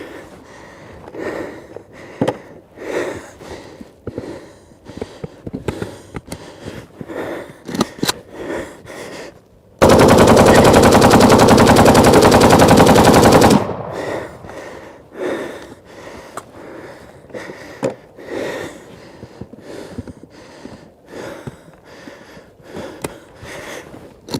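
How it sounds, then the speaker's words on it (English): A Russian AK-47 rifle in an endurance test, overheated and cooking off: sharp, loud repeated cracks, broken by one sustained deafening roar of several seconds before the separate shots resume. "It's cooking off."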